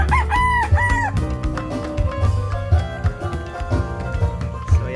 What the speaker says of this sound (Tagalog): So ito yung Filipino typical style pagkakantay ng manok.